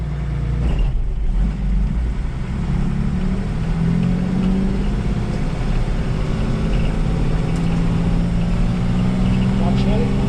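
A Toyota FJ40's engine drones steadily and loudly, rising gently as a learner driver pulls away in first gear, with no other sounds standing out.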